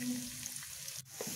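Chopped green chillies fry in a pan with crushed ginger and garlic, giving a quiet, steady sizzle with a brief clatter of stirring partway through.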